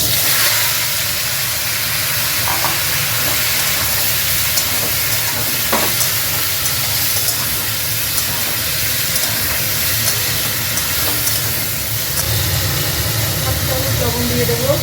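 Tomatoes sizzle and hiss in hot white oil with two dried red chilies and mustard seeds, a steady loud frying crackle running throughout alongside a spoken voice.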